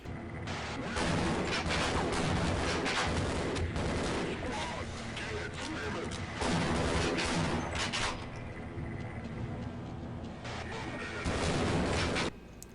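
Gunfire from a Half-Life sequel video game, with shotgun blasts mixed into dense, continuous rapid shooting, loud and close with a few brief lulls.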